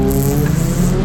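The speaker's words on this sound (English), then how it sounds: "Today we're driving a K24 swapped Miata." K24-swapped Mazda MX-5 Miata driven on track at Buttonwillow Raceway, California, during a track day, its engine droning loudly at steady high revs from inside the cabin.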